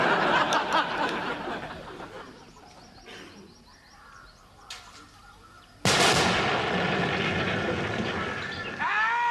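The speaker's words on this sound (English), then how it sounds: "Who fired the mortar?" A mortar round bursts with a sudden loud blast partway through a comedy war scene, its roar lingering and trailing off. Birdlike cackling and rustling noise come before it.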